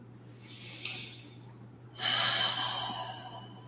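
Two long, deep breaths during a live yoga flow session, each a broad airy rush, the second stronger and fuller, close to the mic over a steady low hum.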